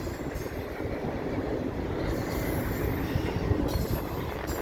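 A Canadian Pacific freight train rolls past below a bridge, a steady broadband rumble of wheels and cars with faint squeal, continuous and fairly close throughout.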